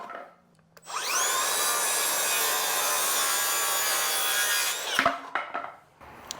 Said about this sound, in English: I'm gonna cut 28-inch braces